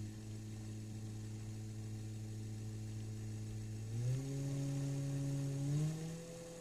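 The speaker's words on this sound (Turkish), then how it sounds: "Motordaki sabit mıknatısların sesini duymanızı istiyorum." Small DC permanent-magnet motor generator of the kind used for wind and water turbines, spinning on about 5 volts and giving a steady whirring hum that steps up in pitch twice as it speeds up, close and alone.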